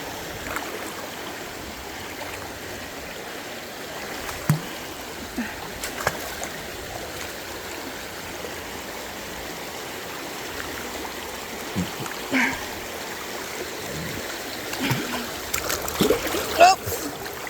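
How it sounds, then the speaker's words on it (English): A creek flows with a steady, soft rushing murmur throughout, plus a few scattered splashes and footfalls near the edge, with occasional talk over it. "So, trying to follow the edge of the creek,"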